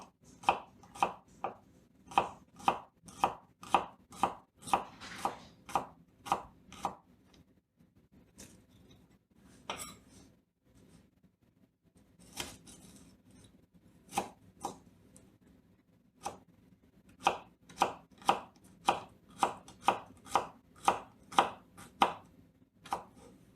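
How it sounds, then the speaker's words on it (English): A paring knife slices food into small rounds on a cutting board, giving crisp, evenly spaced chops in quick runs with a brief pause in the middle, close and clear with no talking. "Slice it about 4 times. Same thing, we can cut it into little bitty rounds."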